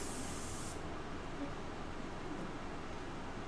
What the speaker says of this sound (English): So I'm gonna spray a little bit harder here and fade it out this way.